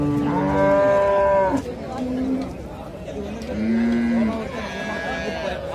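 A Holstein Friesian dairy cow moos loudly in long, drawn-out calls at a cattle market in Karungalpalayam, Erode, with more lowing and a murmur of voices and market bustle in the background.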